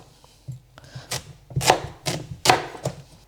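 A knife slices a peeled squash into pieces on a cutting board, giving a series of sharp, close chopping strokes in an uneven rhythm, some louder than others, with no talking.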